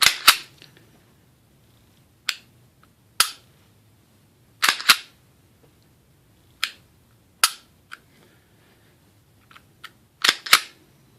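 Sharp metallic clicks of a pistol trigger resetting, about a dozen isolated snaps spaced irregularly, close and crisp against near silence.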